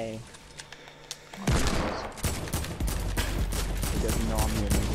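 Rapid bursts of gunfire in the video game Fortnite erupt loud and close after a quieter lead-in, sustaining a dense automatic volley while a player talks over it.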